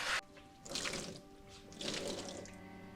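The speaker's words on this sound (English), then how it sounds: "Then I'm just going to rinse it out one more time." Wool yarn rinsed by hand in a sink under running tap water, with two surges of splashing and sloshing separated by quieter trickling, close and moderately loud.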